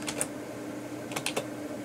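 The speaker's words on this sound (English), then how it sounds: "I'm using a lot of keyboard shortcuts just to speed things along" Quick keyboard shortcuts tapped on a computer keyboard, a few sharp clicks near the start and a short cluster of three keypresses later, close and crisp over a faint steady hum.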